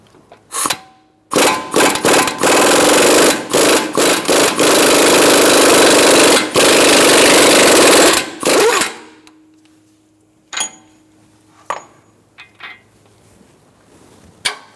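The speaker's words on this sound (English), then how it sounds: "I'm going to take this axle nut off so we don't damage the CV axle when taking the strut" An impact gun with a 36 mm socket hammers loose an axle nut on a 2013-2022 Buick Encore, a long loud continuous rattling burst broken by brief gaps, followed by short metallic clinks and quiet handling.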